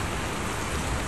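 Steady rain pours down during a long-distance motorcycle ride, a dense, even hiss close around with no distinct drops or pauses, and no talk.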